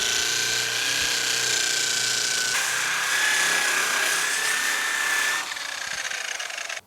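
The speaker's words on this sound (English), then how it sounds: "I'm gonna grind this out right here." An angle grinder grinds into a car's wheel well, a loud sustained high whine with gritty abrasive rasp that shifts slightly as pressure changes, then drops off near the end.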